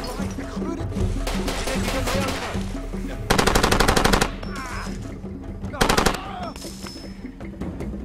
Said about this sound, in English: Where is this guy shooting from?